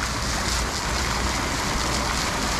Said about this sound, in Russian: А здесь бьет фонтан